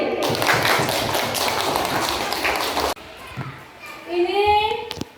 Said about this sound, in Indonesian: Tepuk tangan untuk kelinci kecil